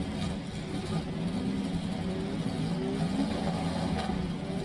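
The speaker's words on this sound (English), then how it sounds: "Engines are fired." Formula 5000 race cars at Winton Motor Raceway run their engines together in a steady, continuous drone before a morning race. The engines sound idling or lightly revving, moderately close and without a break, and no one speaks.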